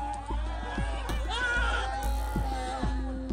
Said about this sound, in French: Les chèvres sont attachées par les cornes, visiblement hébétées. Leurs cris ne laissent aucun doute sur le manque de doigté des ouvriers.